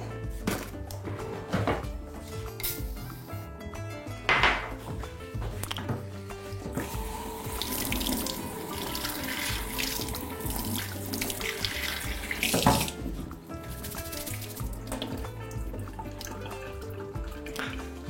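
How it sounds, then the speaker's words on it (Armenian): Coarse bulgur is rinsed under a running kitchen tap, the water pouring steadily with splashing surges and occasional louder gushes as the grains are stirred. "լվանում ենք հոսող ջրի տակ"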